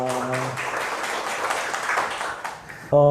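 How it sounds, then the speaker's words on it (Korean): Church congregation at a Friday prayer meeting claps together in a brief, dense round of applause, with organ or keyboard tones at the start and end. "하나님께 영광의 박수 돌리겠습니다"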